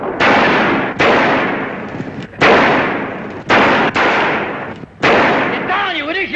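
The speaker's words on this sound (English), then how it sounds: "Sound like shooting?" Loud, close gunshots ring out at an irregular pace, about six sharp bangs each trailing into a long echoing decay, with a voice briefly heard at the end.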